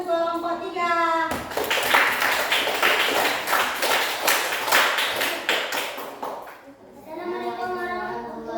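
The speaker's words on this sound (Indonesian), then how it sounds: "Beri tepuk tangan untuk kelompok 3" A group of children claps for a presentation group, with about five seconds of brisk, dense hand-clapping. Children's voices are heard before the clapping starts and again after it fades.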